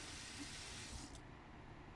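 A water valve handle on a household line is worked back and forth, releasing a steady spray of water and air that hisses continuously, loud and close, easing slightly toward the end.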